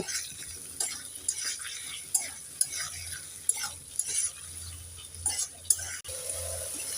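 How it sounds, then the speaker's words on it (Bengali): Chillies and tomatoes with garlic being stirred in a pan, a soft steady sizzle under repeated scraping and knocking of a utensil against the pan, close and moderately quiet, with no talk. "এবার নেড়ে চেড়ে সব উপকরণগুলোকে ভালো করে ভেজে নেব"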